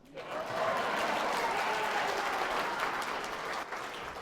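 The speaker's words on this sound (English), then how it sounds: "another round of applause for the cookies" A round of audience applause at a biotech session held at a conference venue, steady close clapping rising quickly after a brief pause and holding for several seconds.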